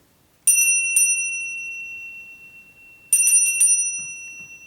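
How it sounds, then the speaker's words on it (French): A cow bell rings with bright, clear, tonal strikes: two single rings, a pause, then a quick cluster of four, each decaying in an otherwise quiet room. "Et pourtant, ça c'est une cloche de vache."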